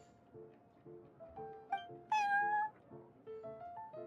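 A cat named Prince meows repeatedly in Genshin Impact, its short, clear mews rising over soft background game music, with one louder, drawn-out call near the middle.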